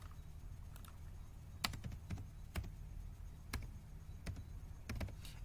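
Soft keystrokes tap on a computer keyboard in short, uneven bursts while typing HTML code, with a few sharper clicks standing out against a quiet room hum.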